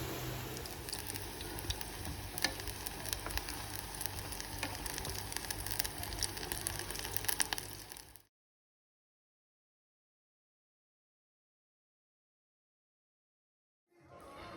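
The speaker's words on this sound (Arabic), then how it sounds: "كتجيو للزيت تخشيو المعلقه في الزيت عاد تطلقوها باش تهبط بشويه" Eggless maakouda batter fries in hot oil, a busy close sizzle and bubbling patter that runs for about eight seconds, then cuts to silence before the sound returns faintly at the very end.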